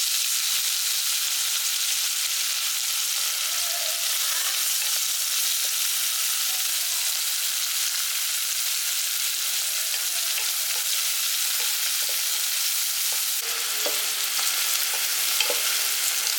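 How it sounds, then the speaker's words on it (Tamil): Large onions fry in hot oil in a pan for a vegetable biryani, making a loud, steady, close sizzle with occasional soft stirring scrapes. "இப்போ பெரிய வெங்காயத்தை போட்டுக்கலாம்"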